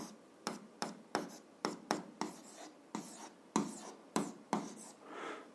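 A pen writes on paper while someone notes down a physics problem, with short scratching strokes in quick uneven bursts up close, heard on their own with no voices.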